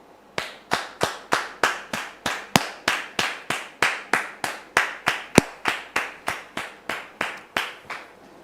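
A studio audience welcomes a guest with steady rhythmic clapping: about twenty crisp, evenly spaced claps, close and fairly loud, with no voices over them.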